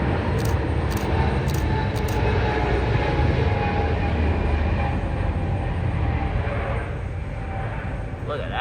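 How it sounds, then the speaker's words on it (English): A United Boeing 777-200 airliner taking off at San Francisco airport, a loud, broad engine roar that holds steady throughout and eases slightly toward the end, with faint clicks early on. "we have the United 777-200 taking off"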